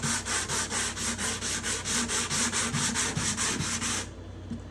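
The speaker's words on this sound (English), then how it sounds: "it takes this much sanding to get to the point where I want to be" Strong rhythmic strokes of hand-sanding a thick guitar soundboard top, about sixteen even back-and-forth rubs of abrasive on wood, close and loud, stopping abruptly near the end.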